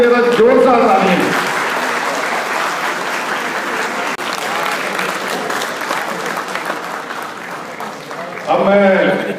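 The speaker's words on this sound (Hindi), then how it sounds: "जोरदार तालियां द्वारा उनका भी स्वागत करते हैं।" A crowd at a public event with India's foreign minister in Janakpuri, Delhi, claps steadily in sustained applause, with a voice speaking in Hindi over the start and end.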